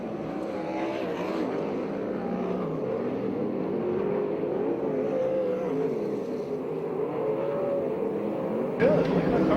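USAC/CRA sprint cars on the final lap at the Perris dirt track in Southern California roar steadily at a distance, a sustained engine drone with faint pitch shifts that runs beneath a commentator talking over it.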